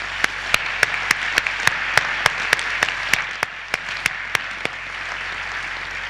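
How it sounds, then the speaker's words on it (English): At a ceremony honoring supporters, crisp, evenly spaced claps ring out at a steady quick beat over a soft background hiss, about sixteen in a row before stopping, sounding more like one prominent clapper than a full crowd. "let's give them a big round of applause"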